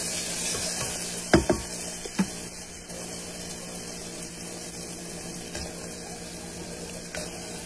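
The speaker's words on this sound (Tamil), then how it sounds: "தக்காளி வந்து ஃபுல்லாக வதங்க வேணாம், கொஞ்சம் சாஃப்ட் ஆகட்டும்." Tomatoes soften in a pan for a mutton curry, a low, even sizzle heard up close, broken by a few sharp knocks of a spoon against the pan.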